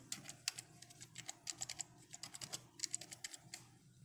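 Rapid keystrokes on a computer keyboard while setting up game controllers on an arcade machine PC, irregular clicky bursts close up with short pauses, no talking.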